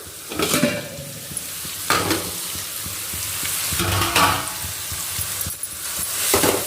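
Chopped onions and crushed garlic sauté in a pan for a garlic rice dish over medium flame, a steady close sizzle broken by several loud stirring scrapes and clanks of a spoon.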